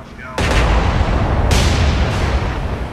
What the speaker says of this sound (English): Canberra, fire on that one.